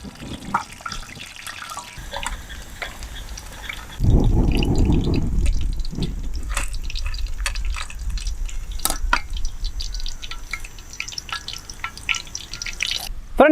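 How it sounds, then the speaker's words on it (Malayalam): Rain falls steadily outside, rising to a heavier close wash of water partway through, with scattered drips and small clinks over it. "നല്ല മഴയുണ്ട്, അതുപോലെ തന്നെ ഇരുട്ടാവാനായിട്ടുണ്ട് ഏകദേശം"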